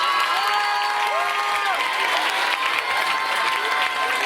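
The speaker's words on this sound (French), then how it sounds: "On peut les applaudir s'il vous plaît" A crowd of people at a community dictation event in Brétigny-sur-Orge applauds steadily and loudly, with scattered cheers and whoops rising over the continuous wash of clapping throughout.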